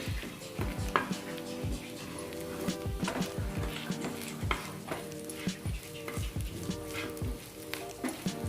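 Tempering (varav) frying in a pan until browned, a steady sizzle with frequent sharp clinks and taps of a utensil stirring against the pan, moderately close, no one speaking.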